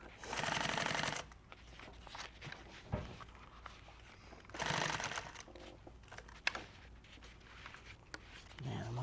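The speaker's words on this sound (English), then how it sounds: "I ran out of bobbin thread there. That's why it sounded different." Sewing machine stitching after its bobbin thread has run out, two bursts of fast, whirring, rattling stitching separated by quieter handling noises and brief clicks, fairly faint overall.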